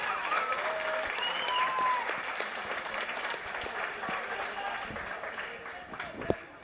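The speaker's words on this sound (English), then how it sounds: "let's give both fighters a big round of applause" A crowd at an amateur boxing event claps for both fighters after a three-round bout, steady full applause with some cheering that holds throughout, ending in a sharp thud near the close.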